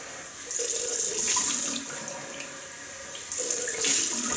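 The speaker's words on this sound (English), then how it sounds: "Okay, rinse off cold water." A running tap sends cold water into a sink for rinsing during a shave, a steady close splashing rush that swells louder in two bursts.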